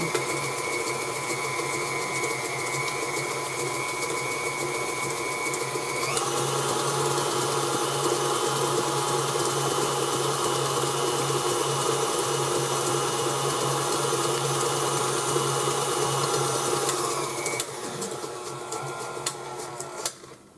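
A stand mixer's electric motor whirs loudly and continuously, its pitch stepping up partway through, then tapering off near the end with no talking.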